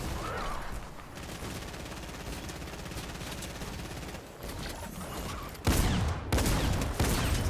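Gunfire in the battle royale game Fortnite, with a dense run of rapid shots through most of the span and then a few louder, heavier blasts near the end.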